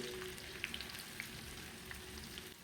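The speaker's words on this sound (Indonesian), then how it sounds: "Kemudian digoreng seperti yang tadi sampai matang ya, sampai warnanya kecoklatan." Shallots fry gently in oil over low heat, giving a soft, steady sizzle with occasional tiny pops, quiet and close, with no voices.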